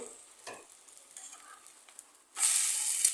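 Ghee sizzles on the edges of a sweet atta-and-sugar pura frying in a pan. It starts as faint quiet crackling, then a loud bright hiss surges up abruptly and holds to the end.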